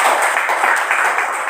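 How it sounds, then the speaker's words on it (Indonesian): Students in a classroom give a round of applause, loud, dense clapping from many hands that fills the whole short moment without pause. "Sekarang kita berikan tepuk tangan."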